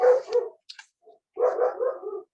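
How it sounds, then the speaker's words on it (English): A dog barks in short bursts close by, a few rapid woofs, a brief pause with faint yips, then another run of barking. "sorry about my dogs if you can hear that"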